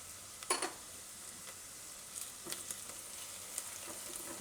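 Spices, turmeric, coriander-cumin, red chilli and salt, sizzle in hot oil for pumpkin khichdi, giving a faint steady crackle with a few soft pops and stirring clicks and no talk.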